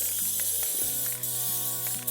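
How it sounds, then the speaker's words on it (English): Foamy, viscous chain lube sprayed from an aerosol can onto a motorcycle chain, giving a close, steady hiss along with clicking ratchet-like mechanical sounds from the can or chain over about two seconds. "This chain guard lube is really nice because it's not too liquidy, it's kind of viscous, so it doesn't spray everywhere like some of them that are more liquidy."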